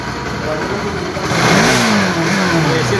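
An NS200 motorcycle engine with a dead charging system starts up and revs, a loud buzzy drone rising in pitch midway and holding as the rider blips the throttle, with a voice briefly in the background.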